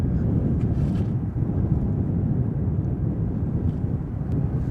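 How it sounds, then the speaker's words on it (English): KLM Embraer E2 airliner arriving at Amsterdam Schiphol, a steady loud low engine roar and rumble with wind buffeting, continuous throughout without any talk. "This is KLM flight 1342 arriving from Billund."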